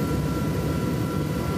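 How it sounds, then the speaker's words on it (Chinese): A Black Hawk helicopter flies overhead carrying supplies for an airdrop to a landslide-isolated area, a steady broad engine and rotor roar throughout. "黑鹰直升机3号一早飞往德兴棒球场，装载要空投的物资后，先到西堡国小补运"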